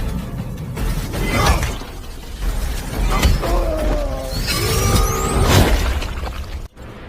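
Crunching smashes and shattering impacts from a film fight in which a robot arm crushes a man's head, dense with clanks and whooshes, loud and close, layered over busy soundtrack noise without speech.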